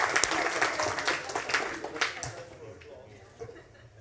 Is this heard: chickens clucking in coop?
no